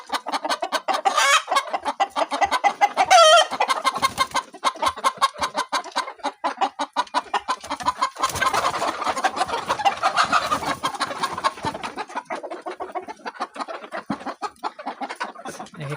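Fayoumi chickens and roosters on a poultry farm cluck and squawk in a busy, overlapping chorus, close and loud, with rapid repeated calls and occasional louder bursts throughout.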